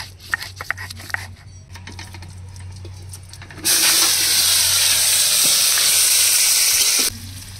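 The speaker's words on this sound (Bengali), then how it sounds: "লবণ হলুদ দিয়ে আলুগুলো ভেজে নেব।" Potatoes fry in hot oil with salt and turmeric for meat curry, starting as a loud, steady sizzle partway through and holding constant before cutting off abruptly; faint kitchen clatter comes before it.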